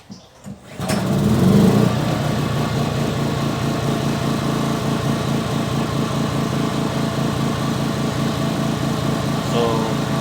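A repaired 2000-watt inverter gasoline generator starts up and runs steadily, its small engine droning loud and close with a constant buzzing hum after a brief startup burst.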